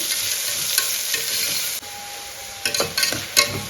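Onions for pulao fry in a pan with a loud, close sizzle that dips briefly midway, followed by a few scraping stirs and light clatters toward the end.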